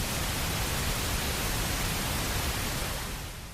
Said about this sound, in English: this is an example of pink noise